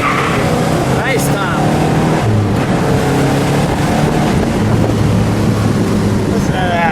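A red 1970 Pontiac GTO Judge convertible with a 400 Ram Air V8 and four-speed gearbox accelerates hard, its loud engine roar rising through the gears beneath wind buffeting while a person speaks briefly.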